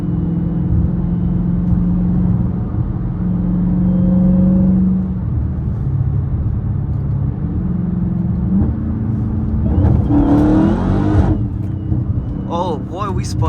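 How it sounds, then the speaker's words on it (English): A 717-horsepower Dodge Charger Widebody Hellcat spins out, its engine droning and rumbling steadily, then revving up sharply near the end; a voice talks over much of it. "Oh boy, we spun out there."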